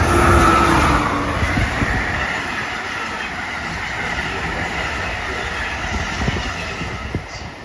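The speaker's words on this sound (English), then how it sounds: "Entering on track 1 is the New Jersey Transit 649 inbound train to Penn Station, New York" A New Jersey Transit inbound train rolls into Metropark station on the Northeast Corridor, a steady close rumble of wheels and rail noise that holds from start to finish with no talk.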